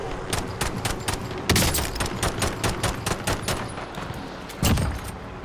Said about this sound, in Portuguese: Eu estou a dar tiros.